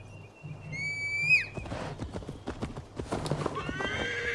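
Horse hooves clip-clop steadily on the ground in Assassin's Creed Valhalla, preceded by a clear, loud neigh, with another whinny near the end.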